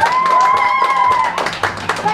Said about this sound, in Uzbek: Qo'llar boshimizda bitta gulduraz, qarsaklar sadosi albatta